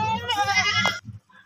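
A Makhi Cheeni goat on a goat farm gives one long, loud, quavering bleat, close to the microphone, followed by a brief softer sound after it stops.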